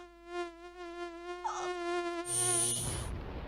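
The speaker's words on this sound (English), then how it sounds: "When mosquitoes invade," Mosquitoes buzz in a thin, whining drone that rises and shifts in pitch, opening a Raid insecticide commercial, close and continuous with no speech.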